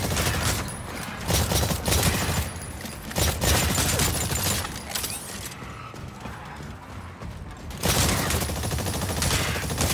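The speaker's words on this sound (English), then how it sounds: "You will now participate in a live fire exercise." Rapid bursts of gunfire ring out during a live fire training exercise in the Exoprimal video game, loud volleys and scattered shots coming in repeated clusters with brief lulls between them.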